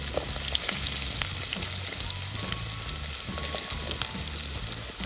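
Chopped onion fries in hot oil, a continuous close sizzle with soft crackles and the occasional stirring scrape, steady and moderately loud with no talking.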